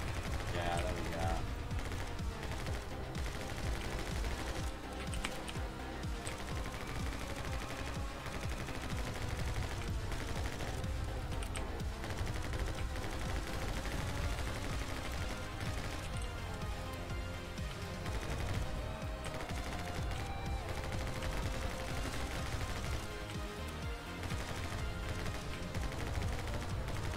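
Gunfire from the video game My Friend Pedro plays as rapid, dense bursts of shots mixed with a driving music track, loud and continuous throughout.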